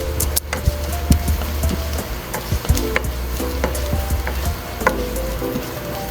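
Garlic sautés in hot cooking oil in a pan, giving a steady sizzle and crackle broken by scattered taps and clinks of a utensil stirring, with no talking.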